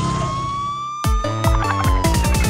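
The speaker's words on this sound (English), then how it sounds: "Here comes the ambulance." A loud wailing cartoon ambulance siren rises and falls, then switches to a rapid, stuttering yelp pattern, close and continuous throughout.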